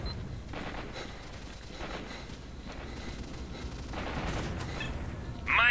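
Gunfire in S.T.A.L.K.E.R.: Shadow of Chernobyl, a scattered series of shots with rumbling booms, some bursts close and sharp, building toward a louder blast at the end.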